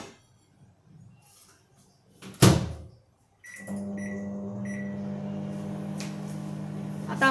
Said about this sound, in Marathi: तर आता मी हिला ओव्हनमध्ये ठेवते.